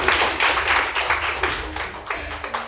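Scattered clapping from an audience at a motivational talk, uneven and patchy with distinct individual claps and a few taps, fairly close and loud, fading in bursts rather than building to a full ovation.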